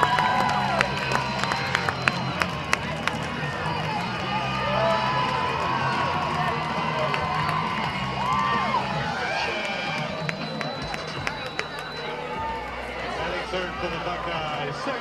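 Crowd noise at a college softball game at Buckeye Field, Michigan at Ohio State, a broad cheering roar with shouts and scattered claps, steady throughout under a commentator's voice.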